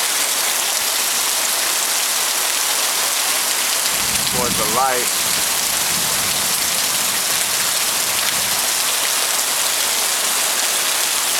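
Water pours steadily from a roof drain amid falling rain, making a loud, continuous hiss close by, with a brief spoken phrase partway through.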